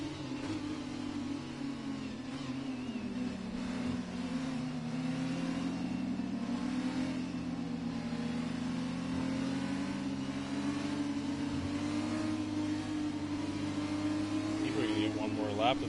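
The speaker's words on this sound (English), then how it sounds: "All these cars are tightly bunched up here." Engines of Formula 1 race cars in a racing video game, bunched tightly behind the safety car at Abu Dhabi, drone steadily and continuously at a loud, even level, with a commentator talking over them throughout.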